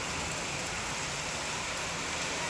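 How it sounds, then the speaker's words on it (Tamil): Heavy rain pours down outside a house in a constant dense hiss with no pauses, heard from indoors. "பயங்கரமாக மழை பெய்யுது."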